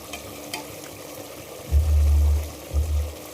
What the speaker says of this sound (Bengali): আমার চিকেন ফুটফুট করে যে কষা হচ্ছে